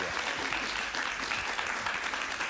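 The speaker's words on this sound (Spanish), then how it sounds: "Un aplauso para ella." A television studio audience applauds for Berta Soler, leader of the Damas de Blanco, with dense, even clapping that holds steady at moderate loudness throughout.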